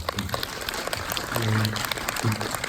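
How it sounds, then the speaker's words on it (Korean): Audience applause fills a film festival screening Q&A for a documentary, moderate clapping with a voice speaking over it in short bursts. "박수 부탁드리겠습니다"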